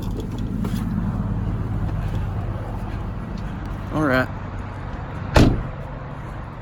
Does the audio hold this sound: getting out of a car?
yes